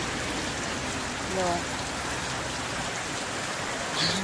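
Heavy rain pours steadily on the road between Rajkot and Mahuva, a dense, constant hiss filling the whole clip, with faint voices underneath.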